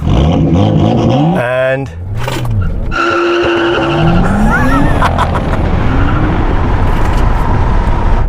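A Tesla Model X P100D launches hard in ludicrous mode, giving a loud tire squeal and skid followed by a rising electric whine as it pulls away close by, with a brief voice heard over it.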